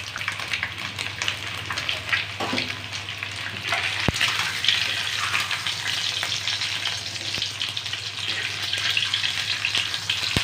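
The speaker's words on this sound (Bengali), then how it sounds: "ডিমগুলোকে এখন আমি একটু উল্টো পাল্টে ভেজে নেব।" Eggs turned over and fried in hot oil in a kadai give a steady, close, dense sizzle that runs throughout, with a couple of sharp clicks from the utensil and no talking.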